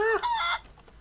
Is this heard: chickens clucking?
yes